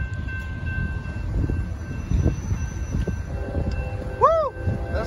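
A KCS freight train, led by locomotive 4816, rumbles through a crossing in Queen Creek, Arizona, with a steady rolling roar throughout and a short horn blast near the end.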